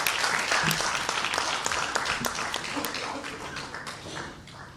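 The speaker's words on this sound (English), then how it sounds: "Please give Shri Arif Mohammad Khan ji a big round of applause" Dense, sustained audience applause fills a book release event hall for the chief guest Shri Arif Mohammad Khan, steady and loud before tapering slightly at the end.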